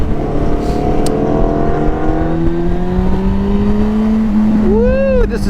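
A Yamaha Fazer 600 motorcycle engine pulls hard as the bike accelerates on a ride, its tone climbing steadily under loud wind roar, then dropping and sweeping back up as the gears change.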